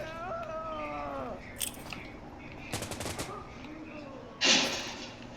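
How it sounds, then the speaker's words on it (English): Sniper shots and gunfire in the video game Insurgency: Sandstorm: a few sharp, scattered bursts of fire over a low background, with one louder crack near the end. "Oh my God, they're already sniping."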